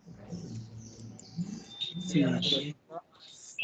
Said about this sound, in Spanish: Que escucha el pájaro por allá.